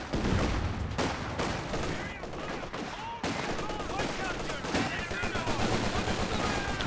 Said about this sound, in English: So much Bren firepower there.